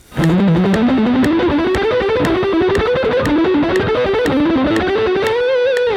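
Rapid, relentless distorted guitar picking in tight even bursts of six notes per click at 120 on a steady click, thrash metal style, the pitch climbing gradually in a repeating riff, loud and close.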